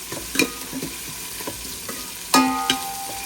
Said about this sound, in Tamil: இதை போடுவோம் போட்டு நல்லா வதங்க வருவோம்